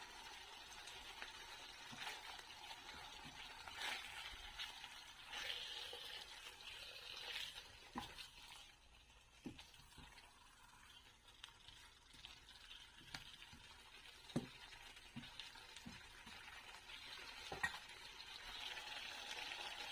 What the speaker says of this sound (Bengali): এবার এই তেলেতেই ম্যারিনেটেড চিকেনটা আমি লো ফ্লেমে কুক করতে থাকবো।